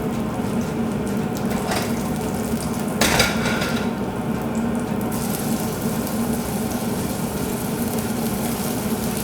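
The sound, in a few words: shrimp frying in a pan for garlic butter pasta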